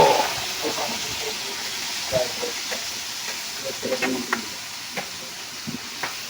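Bottle gourd frying in a pan after garlic, onion and tomato have been sautéed, giving a steady near sizzle with scattered clacks of stirring throughout, no voices.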